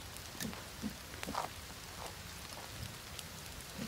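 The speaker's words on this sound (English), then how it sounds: "Of course it starts raining again" Rain falls steadily in a survival video game set in a forest, with scattered drops tapping close by over a constant soft wash and no one talking.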